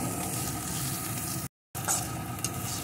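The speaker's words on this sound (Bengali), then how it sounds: "আমি আরেকটু এইভাবে নাড়িয়ে রান্না করে নেব" Beetroot frying in a pan with steady stirring, producing a continuous broad sizzle that drops out briefly for a split second before resuming with a few scraping touches.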